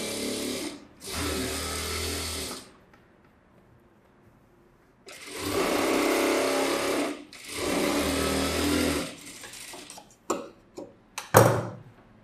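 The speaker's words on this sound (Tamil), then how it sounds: "தையல் போட்டுக்கலாம்." Sewing machine stitching a blouse, running in three steady whirring bursts separated by quiet pauses, followed by a few short clicks and knocks, close and clear with no talking.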